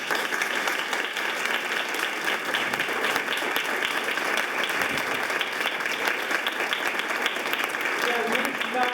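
An auditorium audience applauds in a dense, sustained burst of many hands clapping together, evenly loud from start to finish.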